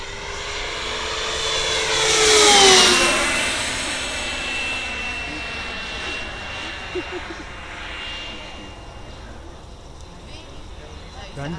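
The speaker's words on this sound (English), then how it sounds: "It's a heavy aircraft though." A Pilatus PC-21 propeller aircraft flies a display at sunset, a loud engine roar that rises and sweeps past with a Doppler swoop, then fades to a steady drone, while people talk nearby.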